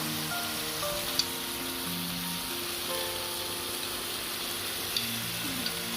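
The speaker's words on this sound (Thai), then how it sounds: "ใส่หมึกอันนี้ลงไปคั่วนะ ใ ห้มันสุกก่อน" Squid stir-fries in a hot pan for a spicy Vietnamese noodle dish, giving a steady moderate sizzle with faint scraping stir sounds and a couple of brief sharp clicks, and no talking.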